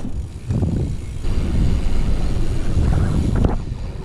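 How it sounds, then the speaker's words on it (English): Helicopters flying overhead near a scrapyard dumpster, a steady broad low rumble and wind-like whoosh that swells after the first second and holds loud throughout, with no talk. "Uh-oh, I hear the choppers."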